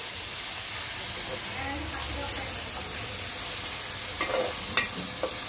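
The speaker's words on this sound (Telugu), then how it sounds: "ఇప్పుడు దీన్ని ఒక్కసారి బాగా కలుపుకోవాలండి." Marinated chicken pieces for a chicken curry being stirred in a pan, giving a steady low sizzle with soft scraping and a few sharper clinks of the spoon near the end.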